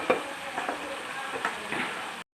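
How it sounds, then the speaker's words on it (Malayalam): Tapioca and meat are stirred together in a pan, giving a soft sizzle broken by several close scraping strokes of the spoon before an abrupt cutoff. "ഇനി ഇത് നന്നായിട്ട് യോജിപ്പിച്ച് ഇളക്കി ചേർക്കണം"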